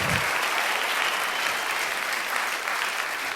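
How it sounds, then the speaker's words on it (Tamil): A crowd at a film trailer launch event applauding, a loud continuous roar of many hands clapping together, dense and unbroken, with no talk over it. "வெறும் உங்கள் கைத்தட்டலாம் மட்டுமே தான் இருக்கணும்"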